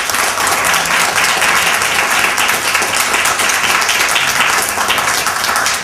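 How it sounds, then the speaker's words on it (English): Audience applause for poets after a reading, a dense, steady wash of many hands clapping at once, loud and sustained throughout with no talking over it. "Let's give another round of applause to these wonderful poets."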